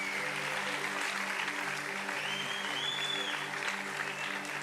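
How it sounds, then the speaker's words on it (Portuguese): A church congregation applauds in honour of the Lord, a steady, dense wash of clapping that holds throughout at a moderate distance, with faint music or hum underneath. "Você pode aplaudir o Senhor em honra"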